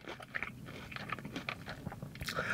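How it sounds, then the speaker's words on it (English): Crunchy bites and chewing of Dave's hot fried chicken, close to the mouth, with repeated crisp crackles and smacking over a couple of seconds, no talking. "I know y'all heard the crunch."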